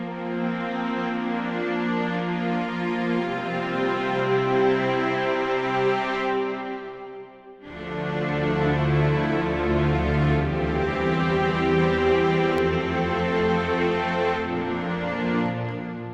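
Orchestral sample library chords played through a medium random hall reverb set to modern at half mix; sustained, full string-like harmonies swell and hold, pause briefly for a near-silent breath, then return with a lingering hall tail.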